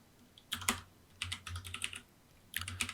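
Computer keyboard keys pressed in short clustered bursts, including F2 and Enter while editing an Excel spreadsheet, with crisp close clicks separated by quiet gaps.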